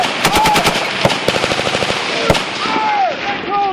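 Soldiers fire rifle rounds in rapid bursts of sharp, loud cracks, close by, with shouted voices breaking in between shots.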